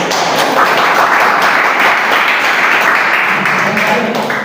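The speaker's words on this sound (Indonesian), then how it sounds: "Tepuk tangan." A classroom full of people clapping steadily during a teaching practice session, loud and dense, sustained throughout without pause.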